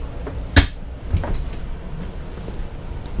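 A motorhome bedroom door on a Forest River FR3 32DS Class A swings shut with one sharp, loud close and a quick latch snap from its magnetic catches, followed by a few softer clunks and rattles nearby.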